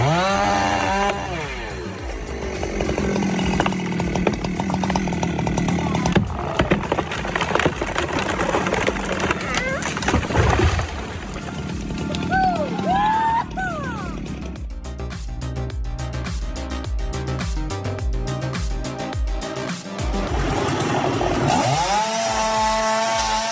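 A powerful chainsaw cutting into a giant tree, its loud buzzing whine rising and falling in revs across long cuts, with woody crackling and a short pause near the end.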